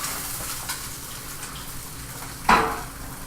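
Steady sizzling from a frying pan, with a brief sharper splash and hiss near the end as a flipped egg lands in the hot oil.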